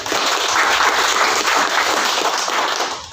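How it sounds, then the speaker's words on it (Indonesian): A large crowd at an Indonesian political gathering bursts into applause, a thick, continuous wash of clapping that holds steady throughout. "Tepuk tangan."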